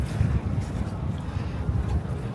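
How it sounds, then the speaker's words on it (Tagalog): Low, gusty wind buffeting the microphone in uneven rumbling bursts, fairly faint overall, with no clear speech. "Sobrang hangin dito, grabe."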